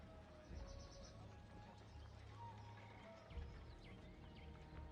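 Hooves of a large hussar cavalry force in the strategy game Cossacks 3, a dense, continuous clip-clop drumming with faint whinnies, steady throughout, under game ambience.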